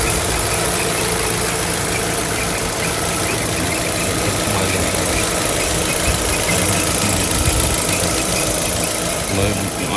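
A used car's engine runs steadily at idle, a constant dense mechanical hum with a faint knocking vibration, close by and continuous with no talk.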